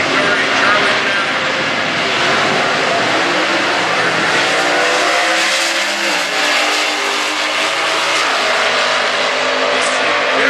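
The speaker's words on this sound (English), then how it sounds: "This is a very good drag race." Stock class drag race cars roar along the strip in a factory stock category race, a loud sustained engine wail over crowd noise with a commentator talking throughout.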